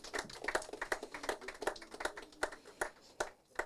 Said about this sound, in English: let's get a round of applause again